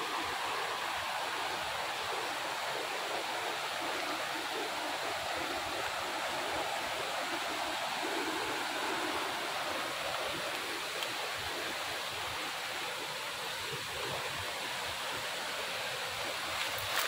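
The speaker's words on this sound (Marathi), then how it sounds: "इथून खाली तो धबधबा चालू होतो" A large waterfall pouring down below a cliff near a village in Konkan, heard as a constant broad rushing roar of falling water, steady and unbroken, with no voices.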